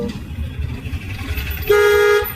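Car horn sounds in a steady blast of about half a second near the end, heard from inside a car moving through busy traffic with road rumble throughout.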